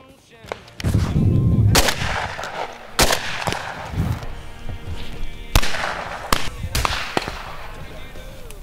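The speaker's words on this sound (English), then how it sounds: "Got one shot." Shotgun blasts ring out during a white-winged dove hunt outdoors, several loud, sharp reports spaced irregularly and trailing off with echo, while excited voices talk and shout in between.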